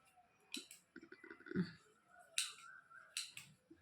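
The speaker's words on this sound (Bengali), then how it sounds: "তারপরে এইখানের মুখটা হালকা একটু কেটে দিতে হবে" Scissors snip open the mouth of a package with a few quiet, separate cuts and clicks, spaced irregularly and heard up close in a quiet room.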